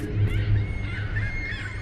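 Crows in The Lightkeeper video game give hoarse, repeated caws, loud and close, in a quick uneven series over a low steady ambient hum.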